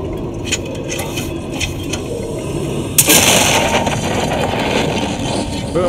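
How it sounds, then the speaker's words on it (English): Dynamite blowing open a rock fissure in the Alien Isolation game, a sudden loud blast near the middle that gives way to a sustained rumbling roar, after quieter clicks and a low mechanical hum. "Goes the dynamite."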